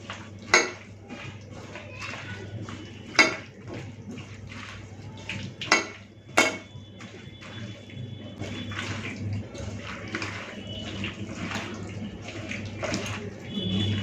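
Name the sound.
hand-mixing small tengra fish with mustard oil and tomato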